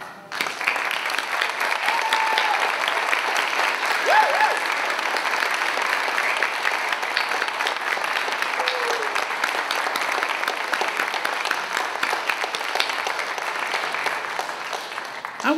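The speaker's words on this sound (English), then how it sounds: "We're going to clap for you again." Parents and guests at a children's piano recital clap for the young performers. The applause is steady and moderately loud, holding evenly for about fifteen seconds before it eases.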